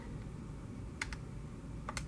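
A few quick keystrokes on a computer keyboard, two short clusters of soft clicks over steady low room hum, fairly faint and close by.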